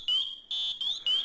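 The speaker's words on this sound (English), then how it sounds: "Listen for the M7 power module to sound the loud pass alarm." MSA Firehawk M7 SCBA power module sounding its loud PASS alarm: shrill electronic tones in repeated rising bursts, four pulses separated by short gaps, close and alone.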